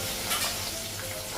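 Ginger paste, turmeric, cumin powder, salt and chili fry in a pan with a dense, close sizzle and a brief stir, loud and unbroken throughout.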